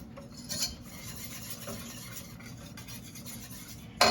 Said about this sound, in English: we're going to whisk them together just until they're smooth and creamy